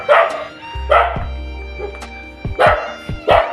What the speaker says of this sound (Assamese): ইমানকে কুকুৰটো এয়া হৈ আছে নেকি